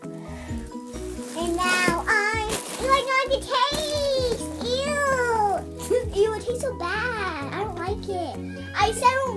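Cat-like meowing sounds rise and fall repeatedly, mixed with a voice, a series of wavering, sing-song mews over several seconds.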